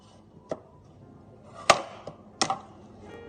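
A knife cuts potatoes into cubes on a board in four or five sharp, separate chops at an uneven pace, close and clear against a quiet background, with no talking.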